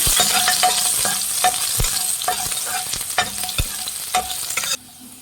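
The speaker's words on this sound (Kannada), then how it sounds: "ಎಣ್ಣೆ ಕಾಯ್ದಿದೆ. ಈಗ ಬೆಳ್ಳುಳ್ಳಿ ಹಾಕೊಳ್ಳೋಣ." Garlic sizzles loudly in hot oil in a pan, with repeated sharp clacks of a spatula stirring through a continuous hiss that cuts off abruptly near the end.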